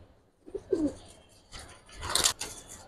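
Giribaz and colored pigeons give soft, quiet coos and a few brief chirps, scattered bursts over a faint background, with no talking.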